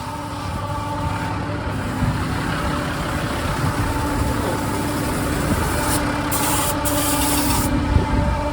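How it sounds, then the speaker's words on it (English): Oil sprays onto a tractor-mounted hedge-cutting flail arm in a steady hiss, while a farm engine idles loudly underneath throughout. "That's just spraying the machine down with oil now."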